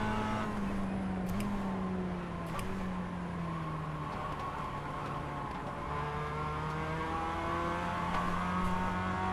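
Several race cars in an iRacing K5 Championship event at Oran Park on a drying track, engines droning steadily and shifting pitch as a group of faster cars closes in, continuous and fairly loud with no talk.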